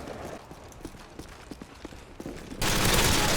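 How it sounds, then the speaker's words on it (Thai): Rapid gunfire from a recoiling gun in Call of Duty MW2: a string of quick, fairly faint shots with a steady rhythm, then a loud, dense burst of noise that dominates the final second. "ผมยิงอะไรเนี่ย ปืนมันดีดนะปืนมันดีด"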